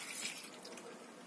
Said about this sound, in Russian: А потом просто налила воду.